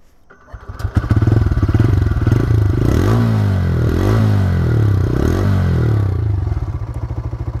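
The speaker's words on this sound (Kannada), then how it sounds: "ಎಕ್ಸಾಸ್ಟ್ ನೋಟ್ ಕೂಡ ನಿಮಗೆ ಒಂದು ಸಲ ಕೇಳಿಸ್ತೀನಿ." A TVS Raider 125cc motorcycle starts and idles loudly up close, its exhaust note rising through three quick throttle blips before settling back to a steady idle.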